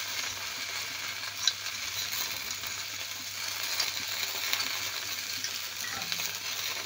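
Okra stirred in a pan with a ground paste of poppy seed, mustard, ginger and green chilli, giving a soft, continuous sizzle with faint scraping of the stirring spoon, fairly quiet and steady.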